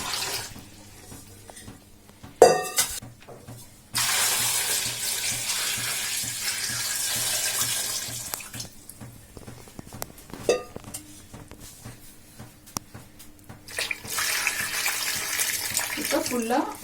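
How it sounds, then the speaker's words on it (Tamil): Tap water runs into a Faber Oxypure fruit and vegetable cleaner holding grapes, in loud hissing bursts that start and stop several times, with quieter pauses between and someone speaking briefly in between. "இப்போ நார்மல் வாட்டரை இதுக்கு ஃபில் பண்ண ஊற்றிக்கலாம்."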